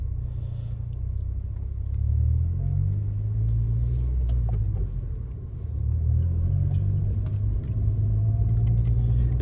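Interior of an Acura TSX on its first drive after a new aftermarket shifter install, with a steady low engine and road rumble throughout that swells gently as the car accelerates, no talking.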